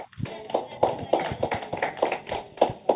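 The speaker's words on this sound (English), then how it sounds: "Okay, have applause everyone." An audience at an event applauds, a steady run of claps at moderate level with a few louder spikes.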